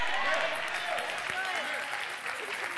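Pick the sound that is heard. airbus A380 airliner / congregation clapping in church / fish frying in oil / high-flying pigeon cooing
congregation clapping in church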